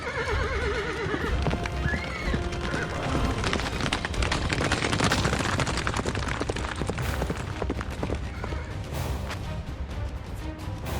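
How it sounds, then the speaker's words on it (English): Cavalry horses gallop onto a Warhammer 40k battlefield, dense clip-clop hoofbeats with repeated neighs and whinnies over a loud, busy battle din, continuous and close for about eleven seconds. "As the actual cavalry gallops onto the field."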